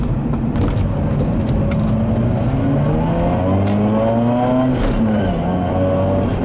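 A 2004 Mazda RX-8 with a rotary engine and six-speed manual climbs through the revs on a test drive, its smooth buzzing note rising steadily, dipping at a shift near the middle and then winding up again, loud and close.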